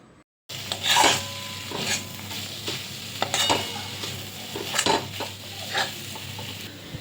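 A vegetable mixture with added gram flour is stirred in a pan for vegetable chops, giving irregular scraping strokes of a utensil against the pan over a soft sizzle, starting after a brief silence.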